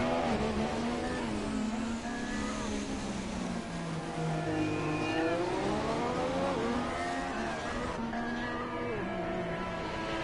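Number 10 Scuderia Ferrari Formula car in a racing game, its high engine whine rising and falling through gear changes in one steady, loud stretch with no talk over it.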